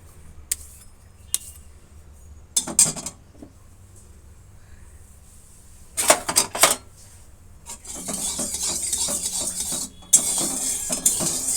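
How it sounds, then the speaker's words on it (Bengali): Mustard oil being stirred while it heats in a pan for a cauliflower bharta, with sparse scraping and clinking of a utensil against the pan, then a steadier sizzling hiss building toward the end. "তেলটা নাড়াচাড়া করে গরম করে নেব"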